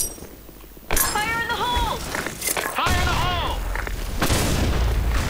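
Grenade explosions in an online shooter match, several loud booming bursts amid constant gunfire and battle noise, with in-game voice callouts over the top.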